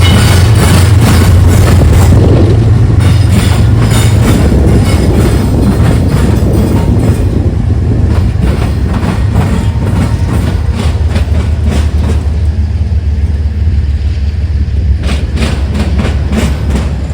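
Freight train M216 rolls across the diamonds at Marion Union Station, a loud continuous heavy rumble with a steady clickety-clack of wheels over the crossing joints, close by throughout.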